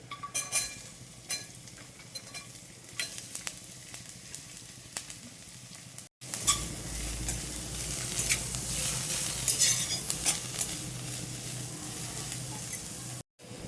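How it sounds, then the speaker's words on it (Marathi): Vegetables stir-fried in a pan for spinach noodles: soft scraping and stirring for the first half, then a loud, steady sizzle takes over once the vegetables hit the hot oil, continuous with intermittent clinks of a utensil. "थोडंसं परतल्यानंतर त्यामध्ये आपण भाज्या घालून घेऊया"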